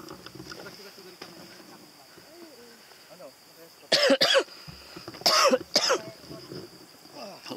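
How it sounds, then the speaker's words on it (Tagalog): Someone coughs on a slippery uphill outdoor path, several sharp, close coughs in two bursts about a second apart, heard over faint rustling and quiet background murmur. "Ubo na ako ah."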